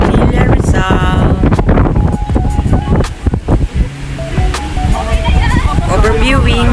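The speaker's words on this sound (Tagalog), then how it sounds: "Lakas ng hangin. Grabe." Strong wind at a windmill farm in Pililla, Rizal buffets the microphone in heavy, gusting roars, with people talking intermittently underneath.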